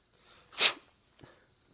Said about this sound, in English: if you have to sneeze, what's the best thing you could do? Grab a tissue.